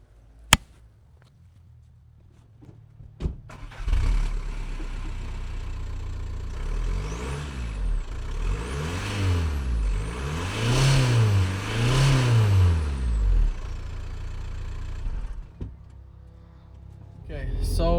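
Volkswagen Golf MK4 engine running on a test drive, a steady drone that swells and falls in repeated rev rises as the car accelerates, heard from inside the cabin with a voice talking briefly near the start.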